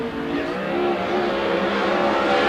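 A 410 sprint car on a Viper chassis, about ten years old with a brand-new engine, running a qualifying lap on an oval track, its engine a steady loud drone that builds slightly throughout.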